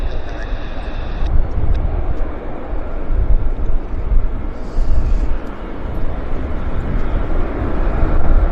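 A Delta airliner taxis at Vancouver airport, heard as a broad, distant engine rumble mixed with wind noise, with a person talking over it now and then.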